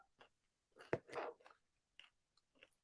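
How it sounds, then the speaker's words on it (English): Someone chews chicken salad close to the microphone, with soft intermittent crunching and moist bites spread over a few seconds in otherwise quiet surroundings. "hold on, I'm chewing."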